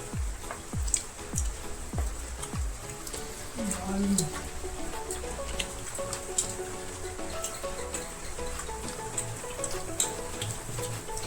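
Steady rain patters and hisses outside, with occasional louder drips and a few faint background sounds.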